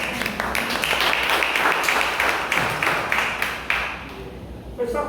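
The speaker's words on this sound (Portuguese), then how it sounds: "Aplauda aqui os universitários." A church worship-service congregation applauds, a dense burst of clapping with a rhythmic pulse, fairly loud and close, tapering off near the end with talk mixed underneath.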